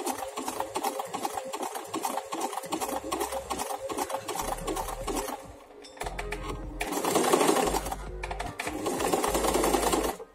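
An Empisal sewing machine stitches a buttonhole in fast, steady needle bursts, pausing briefly about midway before running again, close and fairly loud with no talk.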